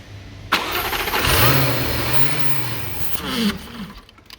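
A 2015 Jaguar F-Type with 72k miles and a hydrolocked engine cranks briefly, then catches and revs up before settling, loud and close, with a second rev near the end.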